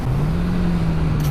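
A Honda CBR650R four-cylinder naked motorcycle holds a loud, steady engine drone throughout, a close continuous rev with a slight pitch dip at the end.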